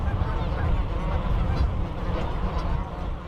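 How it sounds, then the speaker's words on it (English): Geese give a low, bassy murmuring rumble, a steady growling drone that runs unbroken for a few seconds at moderate, close loudness, with faint honk-like overtones on top. "That's all geese do in the murmur."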